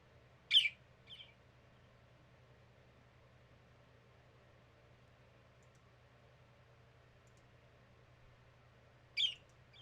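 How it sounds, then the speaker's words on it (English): A pet bird indoors gives two short, bright chirps near the start and one more near the end, faint and isolated over a quiet low hum. "That's my bird."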